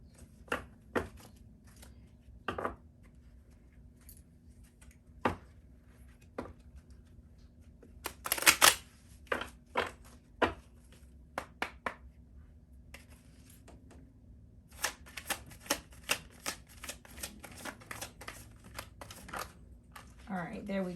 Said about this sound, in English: Told to shuffle one more time.